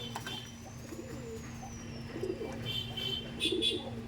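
Pigeons cooing softly in a loft during deworming, low murmuring coos repeating over a steady background hum, with a faint thin whistle above.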